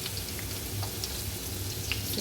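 Chopped garlic fries in a hot pan of oil at the start of a tuna chopsuey, a steady close sizzle with a soft bubbling crackle throughout.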